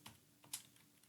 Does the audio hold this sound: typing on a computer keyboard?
yes